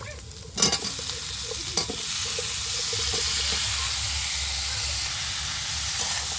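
Pumpkin goes into bitter gourd frying in a pan. A couple of sharp clunks from adding and stirring are followed by a steady, close sizzle that continues on its own.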